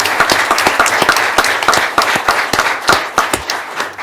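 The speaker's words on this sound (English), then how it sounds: "So they deserve a round of applause," Close, lively clapping from a town meeting audience, many hands in a quick, uneven patter that holds steady for a few seconds.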